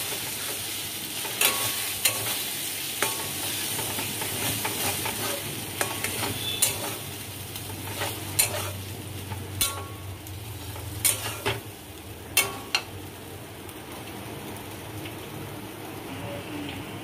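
Mashed taro paste frying in a pan is stirred with a utensil, giving a continuous sizzle broken by sharp scraping and clinking strikes against the pan at irregular intervals, close and clear with no talk.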